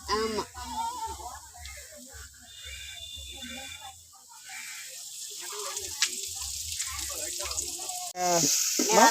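Oil sizzles in a pan on the stove while pirandai chutney is being made, a soft steady frying hiss heard close under ongoing conversation, swelling louder near the end.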